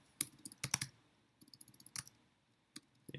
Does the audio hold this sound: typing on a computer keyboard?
yes